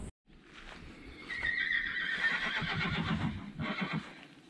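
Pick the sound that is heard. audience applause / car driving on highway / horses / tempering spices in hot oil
horses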